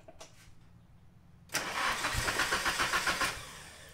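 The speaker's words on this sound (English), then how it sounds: "Sometimes this car has a difficult time on warm starts, but never as bad as it is here." A Nissan SR20 car engine struggling through a difficult warm start: after quiet, it bursts into loud, close cranking with a rapid pulsing rhythm that labors for a couple of seconds before easing off.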